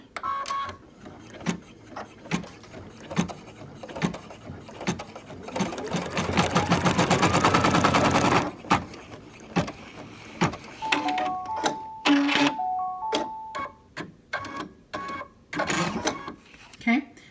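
An embroidery machine sews a placement stitch for a unicorn kitty ear on an in-the-hoop lined zipper bag: a close, steady rapid mechanical whirring burst, with beeps afterward and a voice talking around it.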